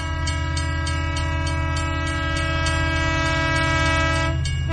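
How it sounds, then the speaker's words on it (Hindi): A train rumbles past with a sustained low drone and steady clattering rhythm, its horn-like tones ringing over the noise, fairly close and continuous. "हाँ, ट्रेन की आवाज़ थी।"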